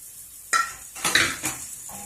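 Cooked gongura leaves are stirred in oil in a pan, with three or four distinct scraping and clinking strokes of a utensil over a faint sizzle, all in under three seconds.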